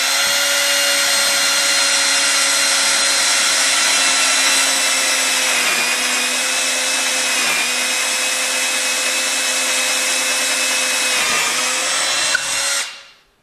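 A power drill bores a hole, its steady high whine running unbroken for about thirteen seconds before spinning down and cutting off at the end.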